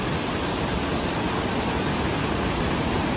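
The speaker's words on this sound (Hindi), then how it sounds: "काफ़ी दरिया बह रहा है" A mountain stream waterfall pours into the Chenab river beside a bridge on the Machail Mata pilgrimage trail. It makes a loud, steady, full rushing roar throughout, with no voices.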